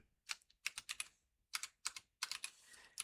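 Typing on a computer keyboard while entering equations into Desmos: quick bursts of close, crisp key clicks separated by short pauses, fairly quiet, with no talking.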